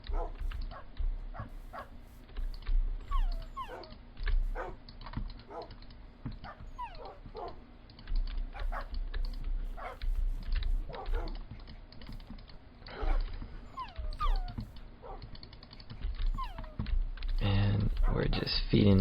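Puppies bark, yip and whimper in quick, irregular bursts throughout while being fed, with a person talking over them and mild clatter nearby; the yelps grow louder and denser toward the end.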